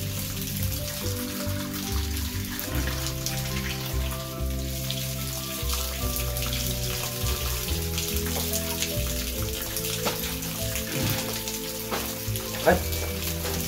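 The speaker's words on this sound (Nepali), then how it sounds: "यो चाहिँ हाम्रो पुजारी झरना।" A forest waterfall rushes in a dense, unbroken roar of falling water, loud and steady throughout with no clear pauses.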